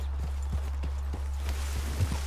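Steady clip-clop of a black horse's hooves walking in Red Dead Redemption 2, an even run of close, moderately loud footfalls over a constant low game hum.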